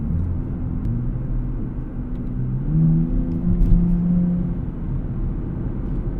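Steady low engine drone from a 2024 Nissan Z Nismo on a road drive at sunset, rising to a slightly louder surge midway as it pulls, with no talk over it.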